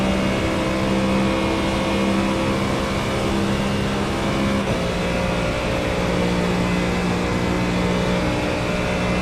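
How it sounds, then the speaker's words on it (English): A GT3 race car engine in a racing simulator game at Daytona drones steadily throughout, a continuous loud hum that holds even with no voice over it. "can you guys even hear me over the car? I have the engine turned down too."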